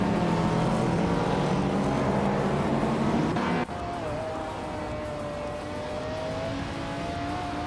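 Engine noise from a video game race featuring a 1996 Mitsubishi GTO, a loud continuous roar that cuts abruptly partway through to a thinner, steady high engine whine, with no talking.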